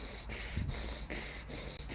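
Rapid, forceful breaths pushed in and out through the nose in a steady rhythm, close and fairly loud, with no talking.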